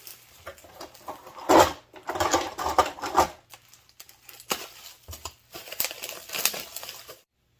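Rustling and crinkling of plastic wrapping as a cheap online-order package of wooden plate arrangement pieces is unwrapped, in bursts of varying loudness at close range with no talking.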